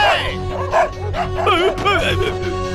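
Several dogs yelp and bark in quick, overlapping bursts, fairly close, with a busy background of voices and noise underneath.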